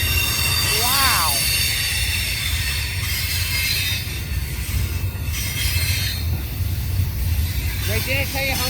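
A massive westbound Union Pacific double-stack freight train rolls past Kirkwood Station, a continuous heavy rumble of cars with sharp wheel squeals near the start and end, and people talking over it.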